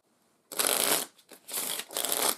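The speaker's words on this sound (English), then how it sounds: "so we'll shuffle this back in." A deck of playing cards is shuffled for a board game mulligan in three loud, crisp riffle bursts, the middle one shorter, close to the microphone, with no talking.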